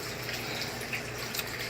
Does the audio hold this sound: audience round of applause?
no